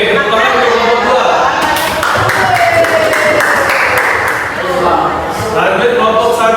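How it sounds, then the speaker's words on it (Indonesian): Students in a classroom applaud a group of classmates, a dense, steady patter of many hands clapping close by for several seconds, with voices talking over it. "tepuk tangan untuk kelompok"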